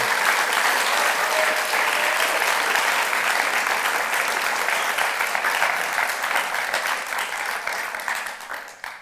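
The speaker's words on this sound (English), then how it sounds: "How about another round of applause for I Saw the TV Glow?" An audience at a film screening event for I Saw the TV Glow breaks into full, sustained applause, a loud dense patter of many hands that holds for most of nine seconds before tapering off at the end.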